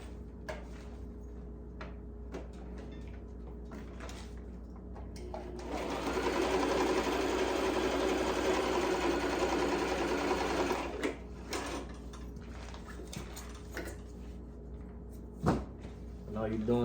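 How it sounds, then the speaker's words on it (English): A sewing machine stitches straight across a slim fit necktie, a steady whirring run of about five seconds in the middle, with quieter handling noises and a voice talking before and after. "And all you're doing is just sewing it straight across"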